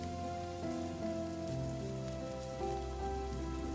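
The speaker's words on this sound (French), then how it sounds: "Il pleut des cordes." Heavy rain pours down in a steady, even hiss throughout, with soft music tones running beneath the downpour.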